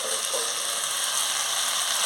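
Soft, steady sizzle of fish-head and cabbage curry in a pan just after the lid comes off, a quiet continuous hiss with a faint scrape of stirring near the end.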